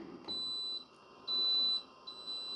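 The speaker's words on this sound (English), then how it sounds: "Well, we heard it beep, and now it's saying cool" A Cowsar fully automatic ice cream maker beeps as it finishes, giving three clear, fairly loud electronic tones, the middle one longest, over a quiet background hum.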